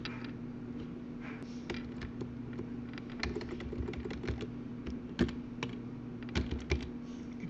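Steady, close typing on a computer keyboard, with quick irregular key clicks over a constant low electrical hum and no talking.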